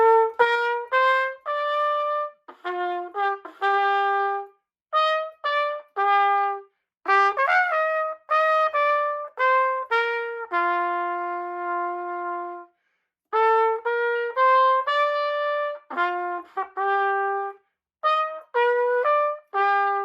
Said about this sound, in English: You can hear the trumpet sounds pretty high, right?